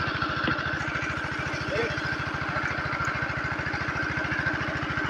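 A small engine running unevenly near a fish pond harvest, putting out a fast, steady chugging pulse with some roughness while people talk over it.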